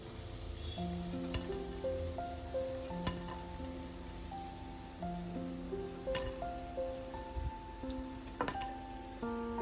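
Lote (Bombay duck) fish pakoras fry in hot oil, a steady soft sizzle running under a tuneful melody that plays throughout.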